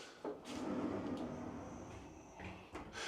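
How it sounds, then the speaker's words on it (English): A door in an old French village house slides and thuds shut, with soft scraping and a couple of knocks, fairly quiet and close with no talking. "I'm gonna close this door at least."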